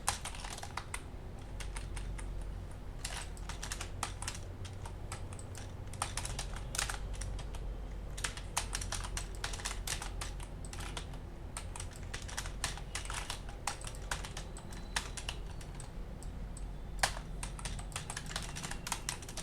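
Fingers tap steadily on a computer keyboard while working in embroidery design punching software, a close, continuous patter of quick, uneven keystrokes with no voices.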